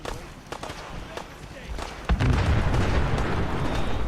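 An explosion in the video game Fallout 4 hits with a sudden booming onset, then settles into a loud, sustained rumble over scattered crackles.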